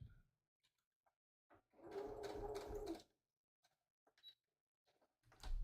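A sewing machine back stitches at the end of a seam on a drawstring project bag, running in one steady burst of about a second with a few small clicks and handling noises before and after.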